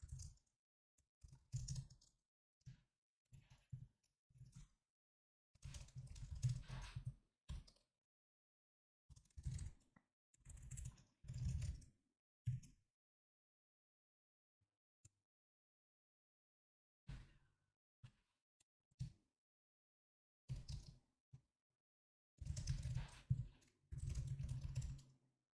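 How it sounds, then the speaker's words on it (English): Quiet bursts of typing on a computer keyboard at a desk, rapid clattering runs of keystrokes separated by pauses of silence. "I'm having a tough time typing today."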